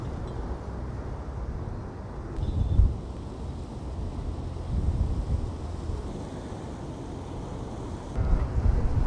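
Steady wind blows along the seaside near the port of Bari, with low rumbling gusts swelling every few seconds over a soft, continuous wash; no voices.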